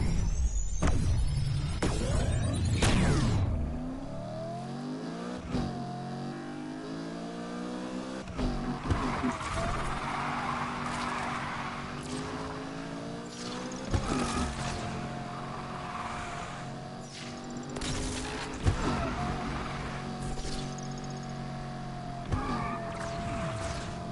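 A car engine revs and accelerates while driving in the racing video game Need for Speed Unbound, rising and falling through repeated gear-shift sweeps, loud at the start then steady with occasional bursts, and no voice over it.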